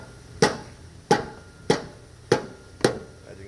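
A soft rubber mallet tapping the alternator loose on a 2007 Chrysler 300 with a 3.5 engine, five evenly spaced dull knocks about half a second apart, close and fairly loud, with no talking.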